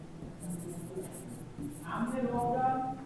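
Marker or chalk scratching on a board while working through an interest calculation, several short scraping strokes in quick succession, with a voice talking at times.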